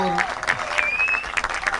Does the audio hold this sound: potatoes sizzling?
no